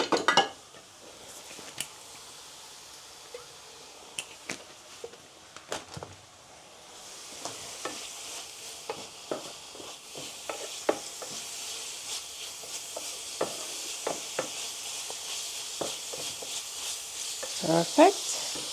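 Vegan mince sizzles steadily in olive oil in a pan while a utensil breaks it apart, adding scattered scrapes and taps over a continuous frying hiss that grows fuller midway.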